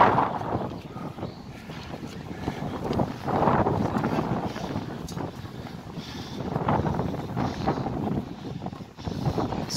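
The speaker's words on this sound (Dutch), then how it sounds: "En het waait ook nog heel goed." Strong gusts buffet the microphone high up on a tall structure during a walk in Koersel, Belgium, producing a continuous loud rushing roar with no speech.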